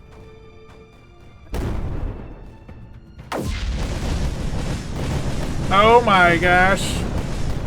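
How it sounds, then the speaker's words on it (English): Missiles launching and exploding in the strategy game Creeper World 4: two sudden loud booms, then a sustained rumbling barrage with a warbling tone, while a voice exclaims over it. "Oh, missiles go! Save me, missiles!"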